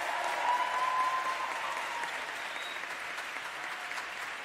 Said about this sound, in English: Can we give them a round of applause also, please?